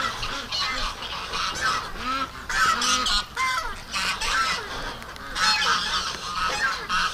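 A flock of ducks, including Muscovies, honks and quacks continuously on a wet day, many overlapping calls rising and falling, loud and close.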